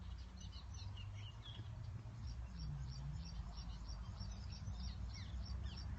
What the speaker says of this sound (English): Yeah, the birds are lovely. They're in the trees above me.